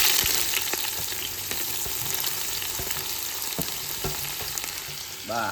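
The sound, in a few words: onions frying with whole spices in a pan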